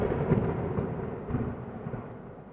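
Steady rain hisses throughout while deep thunder rumbles roll underneath, loud and continuous, with no voices.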